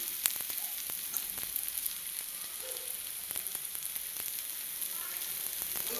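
Masala rice roti fries in oil on a pan over low flame, giving a continuous crackling sizzle dotted with sharp little pops, close and steady, with no talking.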